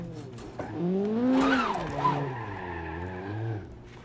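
A car slides through a drift in the driving simulator BeamNG.drive, its tires squealing in a wavering, pitch-bending whine over engine rumble for a few seconds before fading.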